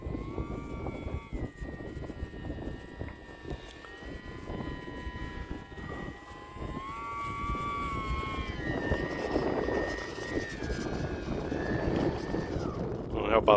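E-flite UMX Pitts S-1S RC aerobatic plane flying and landing into the wind on a runway: a faint, thin electric motor whine rising and falling steadily over outdoor breeze noise, with someone talking nearby.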